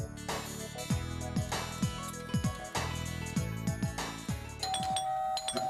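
A building's doorbell rings out in a sustained chime near the end, following a stretch of repeated tonal ringing with no voices.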